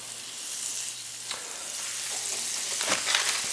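Irish unsalted butter sizzles in a hot pan with a little neutral oil, a steady, close frying hiss with small crackles and pops, alone without voices.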